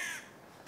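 Crows cawing overhead as they mob in a group, a harsh call up front that fades after a moment before another caw starts at the very end.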